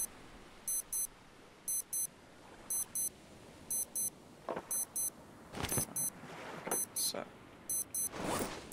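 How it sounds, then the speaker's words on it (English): A wristwatch alarm in the survival video game Stranded Deep beeps in regular paired bursts roughly once a second, crisp and close, while people talk briefly with occasional bumps and thuds. "Why it's beeping my watch again?"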